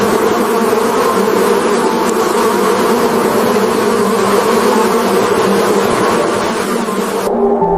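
A massive swarm of bees buzzes around a hive, a dense, steady drone that stays loud and constant throughout, with no voices.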